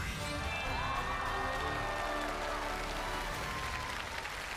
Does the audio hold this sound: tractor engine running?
no